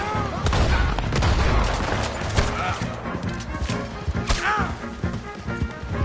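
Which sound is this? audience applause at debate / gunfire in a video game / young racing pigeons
gunfire in a video game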